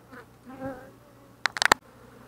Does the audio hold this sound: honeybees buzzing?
yes